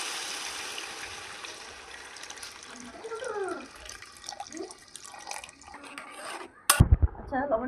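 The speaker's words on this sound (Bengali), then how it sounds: "এবার আমি এটাকে ছেঁকে দেবো।" Washed green peas and ground spices being strained in a kitchen, water trickling and splashing through a strainer, then a sudden louder clatter near the end.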